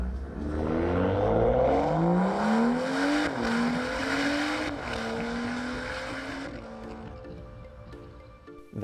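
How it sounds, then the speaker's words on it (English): A stock N55 engine in a 2012 BMW F30 335i with only a modified muffler revs hard and loud, its pitch climbing through several rising sweeps before dropping back to a lower drone and a sharp final blip. "That sound is coming from a stock N55 engine with only a modified muffler."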